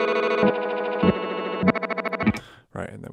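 Guitar digital dive bomb effect in Ableton Live with the nitrous hit off: a sustained, processed guitar tone pulsing through several swells and stuttering bursts, then cutting off abruptly and returning briefly, close and loud.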